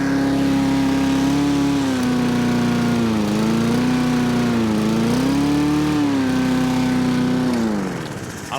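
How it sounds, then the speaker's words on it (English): A Husqvarna R152SVH lawn mower's Honda engine with an auto choke idles fast and loud up close, a steady droning hum with slight rises and dips in pitch, no talk. "Okay, so that's the Husqvarna now running. It is a bit quick"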